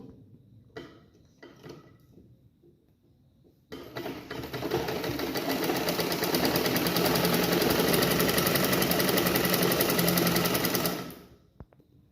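A sewing machine runs a straight seam on a blouse collar in one continuous, loud, close burst of rapid rhythmic stitching lasting several seconds, preceded by a few quiet handling clicks and taps.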